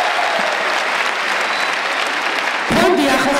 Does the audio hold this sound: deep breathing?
no